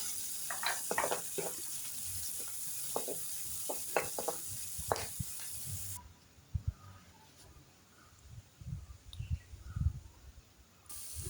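Cowpeas being tempered in a pan with salt and curry leaves: a continuous soft sizzle broken by scraping stirs and clicks of a utensil against the pan, close and alone with no talk.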